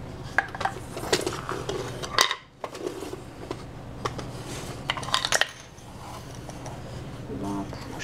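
Small spoons clink and scrape against an opened container while scooping Lapsang souchong, a Chinese black tea, in a quick irregular series of bright metallic taps with brief pauses.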